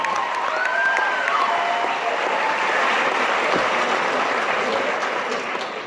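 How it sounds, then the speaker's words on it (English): Graduation audience applause at a community school commencement: a sustained wash of clapping from a large crowd, steady and loud throughout, with a faint whistle near the start. "Go ahead, give a round of applause."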